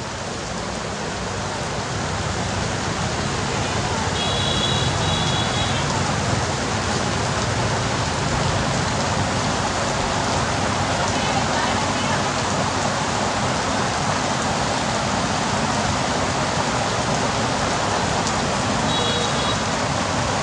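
Heavy rain pours steadily onto a street at an intersection in Nha Trang, a dense, unbroken hiss that fills the whole stretch, with a faint voice briefly audible beneath it.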